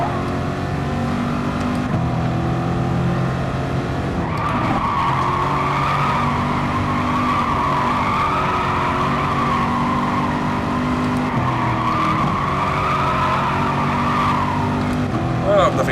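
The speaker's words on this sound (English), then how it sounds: "You get to see me spin backwards for about 400 metres." A race car spins backwards, tyres squealing and skidding across the track with engine drone throughout, a sustained tonal screech rising midway before fading, with talk over the top.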